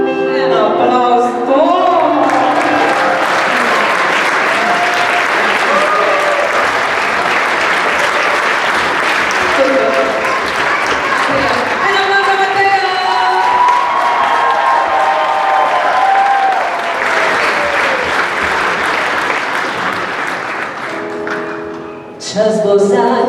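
Concert audience at a charity winter concert in Gorje bursts into sustained, loud applause mixed with cheers and whistles, a dense roar of clapping lasting over twenty seconds with voices shouting through it.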